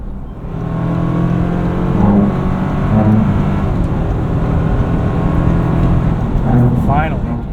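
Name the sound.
2025 Toyota 4Runner TRD Sport accelerating at full throttle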